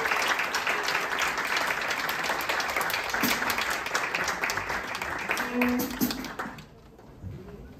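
An audience at a live show claps loudly and continuously for performers, a thick wash of applause that holds steady before stopping abruptly near the end, leaving a quieter room.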